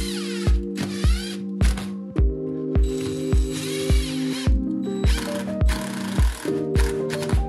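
A ratchet tightens toilet flange screws into the subfloor with a loud, close, rapid run of regular metallic clicks, each stroke crisply separated, with short pauses as the handle resets.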